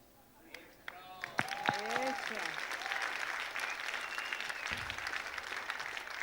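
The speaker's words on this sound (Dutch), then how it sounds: "En ook een geweldig applaus voor Marvin." A theatre audience at a stage show gives a swelling round of applause for a performer, starting after a few scattered claps and a brief voice, then holding as a broad, even roar of clapping.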